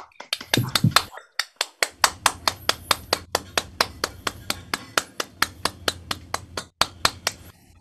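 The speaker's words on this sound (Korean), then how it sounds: "모두 박수로 맞아주실까요?" Audience at a Korean chapel talk welcoming a startup presenter with rhythmic unison clapping, sharp evenly spaced claps that settle into a steady fast beat for several seconds after a few loose opening claps.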